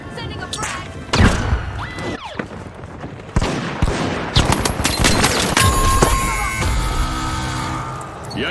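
A frag grenade blast in The Finals, one of several heavy booms and thuds amid loud gunfire and crashing debris, with a commentator's voice heard over the chaotic mix.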